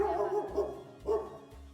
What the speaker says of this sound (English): That's our dog Mona that's been quiet the whole time